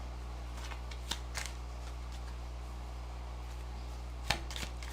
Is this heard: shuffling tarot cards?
yes